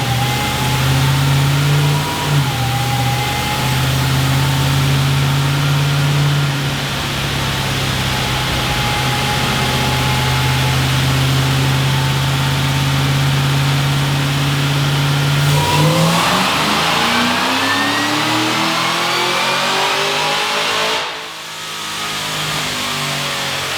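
Cadillac CTS-V with a BTR cam on a dyno tune pass, a loud sustained engine drone at steady high revs, then rising and sweeping as the revs change before dropping off sharply near the end; no voices.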